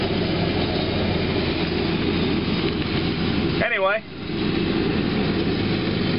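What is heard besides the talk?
tractor mowing nearby, driving by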